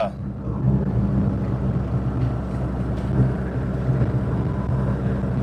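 A small, slow diesel rig engine drones loudly and steadily while driving along a road, with wind rumble on the microphone throughout and no talk over it.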